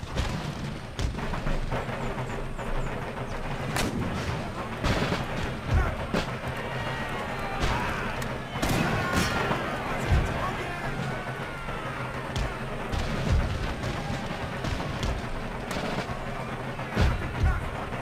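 Artillery in an Empire: Total War battle sounds as a steady barrage of deep booms and thuds over a rumbling battlefield din, with a voice talking at moments.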